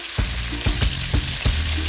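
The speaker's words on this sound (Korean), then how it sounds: "양념이 다 된 만세기는 기름에 넣고 튀기는데요." Mahi-mahi fish seasoned with salt, chili powder, curry and starch fries in oil in South India, giving a loud continuous sizzle broken by several low thumps as pieces are stirred.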